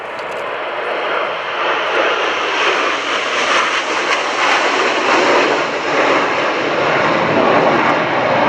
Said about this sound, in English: It's the Italian jet trainer for Frecce Tricolori.